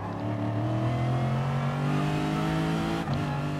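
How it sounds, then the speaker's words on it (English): A Gr.3 V8 race car engine in Gran Turismo Sport at Kyoto, a loud steady high-rev drone that holds close and constant, with a brief dip near the end as it shifts. "Just enjoying the sound of that car."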